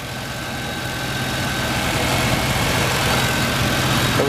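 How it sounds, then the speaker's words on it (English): A 1989 Chevrolet Caprice Brougham LS engine idling steadily, a constant low rumble with broadband noise, close and fairly loud, holding the same level throughout without revving. "the motor still run good. And it's still running perfect."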